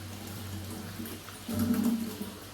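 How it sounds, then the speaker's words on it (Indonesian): Tap water runs steadily from a faucet while hands are wetted for handwashing, a soft continuous splash that grows a little louder partway through. "basahi tangan menggunakan air mengalir"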